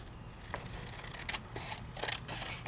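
Scissors snip through a paper card for a handmade interactive card, several short, quiet crisp cuts in an uneven rhythm close by, with no talking.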